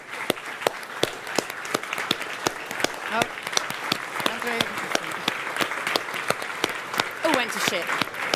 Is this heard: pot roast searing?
no